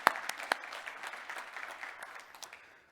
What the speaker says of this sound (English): Another round of applause, please, for our predecessor.